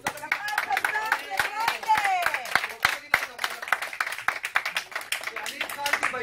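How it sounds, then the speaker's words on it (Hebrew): Hands clapping at a Raanana city council meeting, a run of sharp uneven claps mixed with someone talking loudly over them in a hall. "כפיים לכולם, כפיים!"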